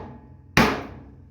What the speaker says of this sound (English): That was kind of fun just hitting it hard with the hammer